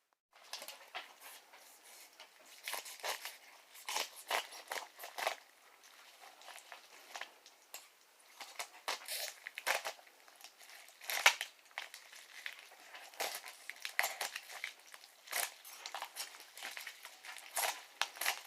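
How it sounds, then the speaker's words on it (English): Repeated crisp scraping and crackling as an old knife cuts through a thin bathroom tile sheet, irregular strokes close up with short pauses between them. "this is actually an old knife I found, just kind of cutting"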